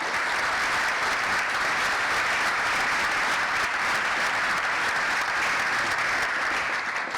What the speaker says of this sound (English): just one more big round of thank you to our panelists. First of all, it's a big round of applause.